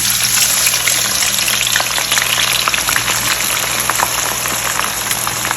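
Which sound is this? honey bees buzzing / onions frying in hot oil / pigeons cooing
onions frying in hot oil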